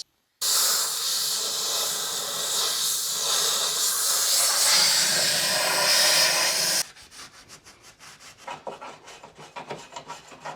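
Primer sprayed inside a car body cavity during an engine swap on a Porsche 911, a loud steady hiss running about six seconds before cutting off, then quieter scattered rustling and handling noises.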